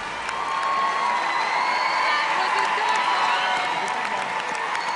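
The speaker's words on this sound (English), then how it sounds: "got the judges standing up and clapping" A talent show audience bursts into sustained applause and cheering as the judges give a standing ovation, a dense, loud wash of clapping with scattered whoops running throughout.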